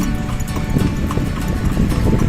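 Horse hooves clip-clopping on a city street in Manila near Baclaran Church, a steady run of loud, close hoof strikes over heavy traffic rumble and street noise, with no talk.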